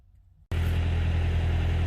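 A car engine cuts in abruptly after a moment of near silence, then a loud, steady, close interior drone and road rumble continue without talk.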